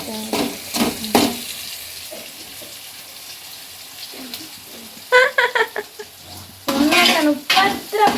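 Red onions being stirred in a pan for biryani, with scattered bursts of spoon scraping and light sizzle, separated by a quieter stretch in the middle.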